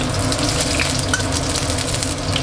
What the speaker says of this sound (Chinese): 把锅里加点底油，油热之后下腊肉，把腊肉的油炸出来